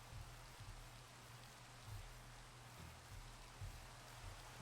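Soft, steady video-game rain patters continuously at a low level, a gentle even hiss with no voices over it.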